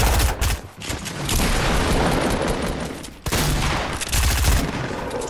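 Loud, close gunfire in a shooter video game: dense rapid bursts that fill the space, broken by a brief pause before another sustained volley and a final flurry of shots.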